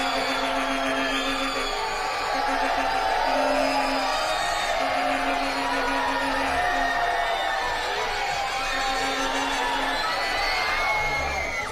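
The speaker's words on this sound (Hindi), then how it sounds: "लड़कियां क्या चीखती हैं यार, कसम खुदा की हद है" Girls in a TV game show studio audience in Pakistan scream and whoop continuously, a dense, loud crowd roar that carries steadily from start to finish.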